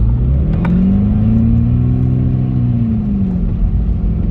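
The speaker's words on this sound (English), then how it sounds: "And now you use the paddles to change down, up, and down." A Volkswagen Polo 6R GTI engine hums steadily, its pitch sweeping up and then easing down as paddle-shift gears change quickly, down, up and down, with no voices.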